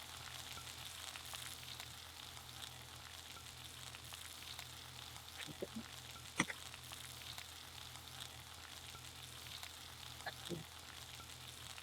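Masala fries in a pan with a steady low sizzle, while tomatoes go in and are stirred, bringing a few sharp clinks of a utensil against the pan.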